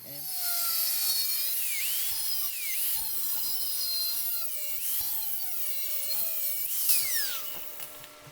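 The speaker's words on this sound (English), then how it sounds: "I'm going to take my angle grinder, cut it out" Angle grinder cutting steel plate while welding a differential, a steady high-pitched whine whose pitch rises and falls as the disc bites into the metal, loud and continuous with no talking.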